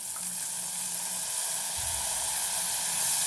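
Vinegar is poured into a hot pan for plum pickle and sizzles in a steady close hiss that gets a little louder toward the end, with a brief low rumble midway.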